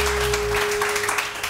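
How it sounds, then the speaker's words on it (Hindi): Studio audience applause on a Pakistani morning show, steady and moderately loud broadband clapping with a low steady hum underneath, thinning slightly toward the end. "इनके लिए बहुत सारी तालियां बजें"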